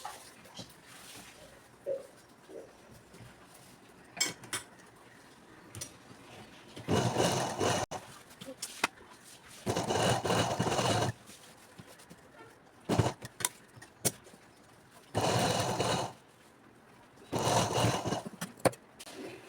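Sewing machine stitching the folded hem of a school uniform pant down to the bottom, in several short whirring bursts between quieter handling noises and pauses.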